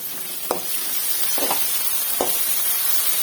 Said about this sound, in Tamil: தக்காளியை போட்டு கொஞ்சம் வதக்கிக்கலாம்